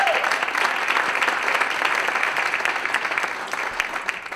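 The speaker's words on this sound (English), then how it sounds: "That's worth an applause, I think." A crowd at a Denver awards ceremony bursts into steady, dense applause, many hands clapping together at close range for a few seconds before it begins to ease.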